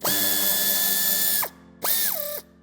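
A ratcheting power tool removes the screw behind the plastic bumper trim on a 2021 Opel Astra L five-door, giving two loud whirring bursts, the second winding down in pitch, with a short pause between.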